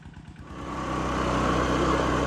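A stuck motorcycle whose drive belt has stretched, revved on the spot without moving; the engine rises from an uneven putter into a steady, higher drone that holds, close and alone.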